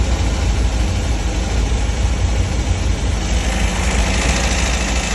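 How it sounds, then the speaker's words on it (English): An old engine on a vintage Klein green bean harvester idles with a constant deep rumble while warming up, close and fairly loud, holding an even rhythm throughout with no talking. "I'm warming up the engine"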